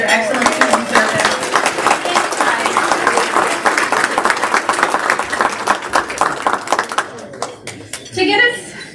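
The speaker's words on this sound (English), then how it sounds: "can we get a round of applause for the Dulles Airport Marriott staff and for their excellent student service" Sustained applause from an audience at an airport master plan luncheon at the Dulles Airport Marriott, dense steady clapping for about seven seconds that thins out at the end, with a brief voice near the close.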